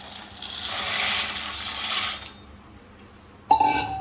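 Dry macaroni pours into a pressure cooker of boiling water with a rushing hiss that fades out, then a sharp metallic clink rings out near the end.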